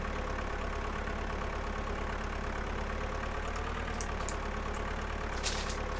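A small tractor engine idles steadily in the Farming Simulator 2013 video game, a constant low mechanical hum that holds without change from start to finish, with no voices.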